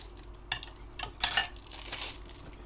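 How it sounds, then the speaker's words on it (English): A plastic MRE spoon scrapes and clicks inside a military ration pouch holding a jalapeno beef patty, a few close, sharp scrapes and rustles in irregular bursts. "I've got my standard MRE spoon."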